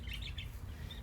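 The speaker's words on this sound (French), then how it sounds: "Son perroquet, il parle." Parrot calling indoors at home, bright repeated chirps and squawks over a steady low rumble of background noise, fairly faint and continuous through the short moment.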